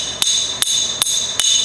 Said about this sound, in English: Hammer on dolly is where you hear the.